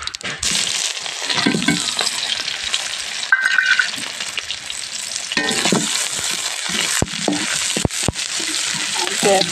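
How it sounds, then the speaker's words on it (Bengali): Chopped onion and whole cumin seeds frying in hot oil, a loud steady sizzle close by with occasional scraping and clinks of a spoon stirring the pan. "পেঁয়াজটা লাল লাল করে ভেজে নেব"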